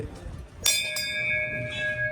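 A bright temple bell at the entrance gate of Jakhu Hanuman Temple, Shimla, strikes once, its metallic tone ringing and slowly fading, with a faint second strike, over soft background chatter and ambient noise.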